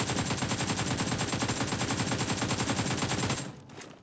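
Rapid automatic gunfire in the mobile battle-royale game PUBG Mobile, a loud, dense stream of shots firing steadily for about three and a half seconds before cutting off, with no talking.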